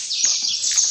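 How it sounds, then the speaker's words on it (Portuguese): Several birds give high, bright chirps and tweets in quick overlapping bursts, fairly close and clear, from a dark, rainy street outside a new apartment. "passarinhos"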